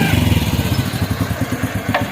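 A motorcycle engine runs close by with a steady, loud, rapid throbbing putter, idling in a village setting, with a brief sharp sound near the end and no clear talking.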